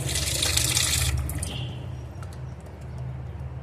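Fresh fish pieces washed under running water, a loud rushing gush at first that drops to softer splashing and trickling as the pieces are rinsed by hand, close by with no talk.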